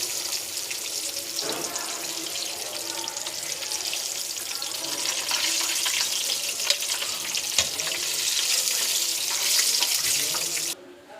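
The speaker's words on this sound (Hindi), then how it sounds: "तो फ़िश अच्छे तरीके से फ्राई हो चुकी है।" Masala-coated fish fries in hot oil, producing a loud, dense, unbroken hiss and crackle close by for several seconds before cutting off abruptly.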